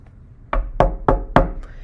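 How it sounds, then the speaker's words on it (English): Four firm knocks on a door, evenly spaced and close, standing alone after a quiet start. "Then onto the door there arose such a knock."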